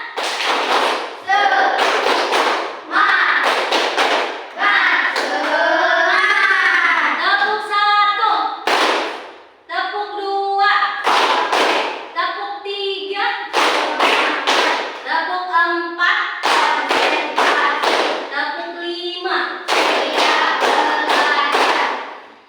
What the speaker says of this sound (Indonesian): Cek dulu, tepuk semangat.